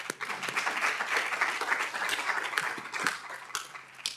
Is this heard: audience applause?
yes